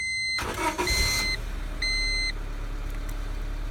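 A 1999 Honda Civic engine cranks and catches, started without a key with the ignition tumbler removed, then idles steadily while a few electronic dashboard beeps chime over the low hum.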